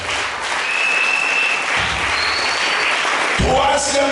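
Church congregation applauding and cheering the Lord during a service, a steady dense wash of clapping that holds throughout and swells near the end, with voices mixed into the crowd.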